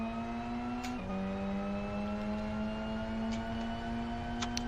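A racing car engine drones steadily in the Live For Speed driving game, its pitch holding high and then stepping down and climbing slowly as turbo pressure builds, alone and without talk.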